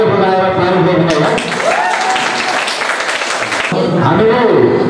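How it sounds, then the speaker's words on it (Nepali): An audience applauds at a Nepali Janata Dal political meeting in Chitwan, giving a dense burst of clapping that lasts a couple of seconds between stretches of amplified speech. "सम्पूर्ण मित्रहरू ताली बजाएर तारिफ गर्नु होला"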